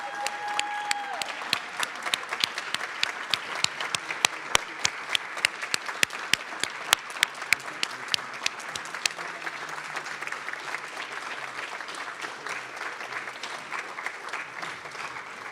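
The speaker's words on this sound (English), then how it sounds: "So will everyone join me in giving a round of applause to our class of 2022?" Audience applause for the class of 2022 graduates at a PTA graduate recognition ceremony, a steady crowd clapping that runs the full length, dense at first with sharp individual claps standing out, then thinning slightly toward the end.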